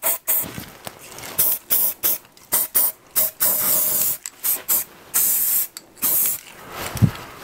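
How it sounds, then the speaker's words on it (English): A spray can of crack-detection developer spritzes onto a threaded metal part in a series of loud, close hissing bursts separated by short gaps, with a light knock near the end. "I can spray a little bit of developer in there"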